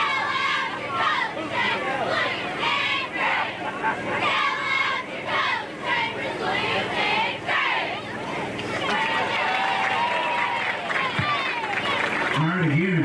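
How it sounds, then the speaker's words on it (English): Chambers Academy cheerleaders perform at a school sports game, with rhythmic chanting voices and a lively crowd murmuring and cheering around them, a busy, continuous wash of shouts and babble. "let's enjoy some Chambers Academy CA cheerleaders"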